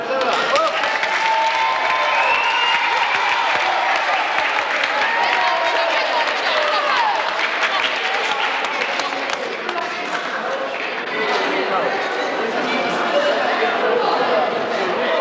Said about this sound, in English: give them all a big cheer